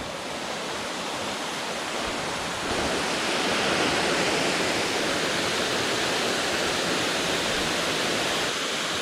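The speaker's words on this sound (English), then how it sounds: "The waterfall" Khun Si Waterfall on Koh Samui, Thailand, roars as a dense, steady rush of falling water, loud and close, swelling slightly partway through, with no talking.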